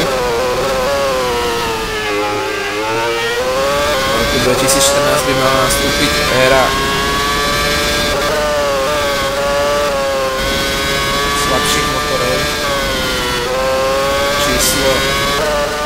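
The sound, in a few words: Formula 1 V8 engine revving at Korean Grand Prix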